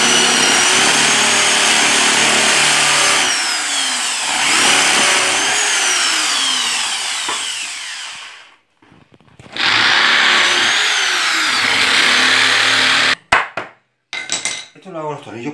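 An electric drill bores through wood with a short bit while building a budget mezzanine: a loud, close, continuous whirring grind of about eight seconds, a brief pause, a second burst, then a few clattering knocks.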